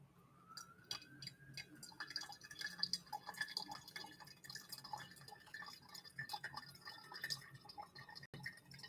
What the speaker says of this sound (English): And then we pour continuously all the way up to 255 grams of water.